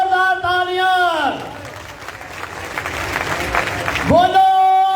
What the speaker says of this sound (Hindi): बोलो मुकद्दसा मां मरियम के नाम की जोरदार तालियां